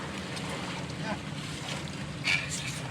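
Steady engine drone of a boat at sea with wind and water wash, a brief splash or spray rising toward the end.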